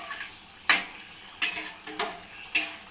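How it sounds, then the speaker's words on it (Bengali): A spoon stirs prawn malai curry ingredients with a little ghee in a pan, giving four or five soft scraping clinks at a steady pace over a faint sizzle, close and unaccompanied by speech. "এবার ভালো করে এগুলোকে মিক্সড করে নেব"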